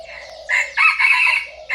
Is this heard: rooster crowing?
yes